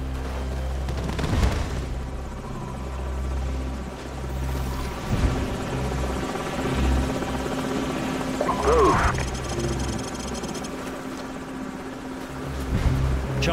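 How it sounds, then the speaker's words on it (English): Enemy helicopters in Call of Duty 4: Modern Warfare, a steady rotor drone running under the whole battle scene, mixed with gunfire, booms and bursts of game noise. "Enemy helicopters."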